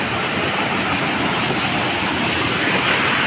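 Daporijo waterfall pouring in a constant, dense, loud rush of falling water, close and unbroken throughout with no talking on top.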